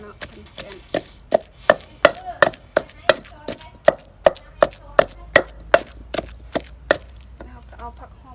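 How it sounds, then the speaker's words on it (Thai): Ingredients for a Tai Lue sour rice-noodle dish are pounded in a mortar, about twenty crisp, evenly spaced knocks close up, slowing and stopping near the end. "ตำให้ส่วนผสมมันเข้ากัน"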